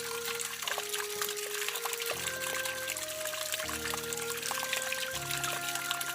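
Water poured or trickling steadily while someone drinks during a rest break, a continuous close liquid flow lasting several seconds behind a busy music-like background.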